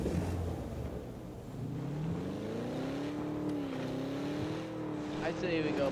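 A car driving in PUBG, its engine tone rising and shifting steadily as the vehicle moves, heard at moderate level under a continuous game background.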